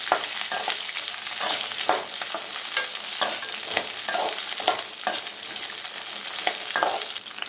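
Green chillies sauté in hot oil over a medium flame for a Tamil tamarind chilli pickle, giving a steady bright sizzle with frequent crackles and spits, close and continuous without a voice.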